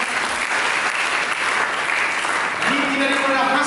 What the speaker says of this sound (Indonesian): Dengan tepuk tangan bagi Tuhan.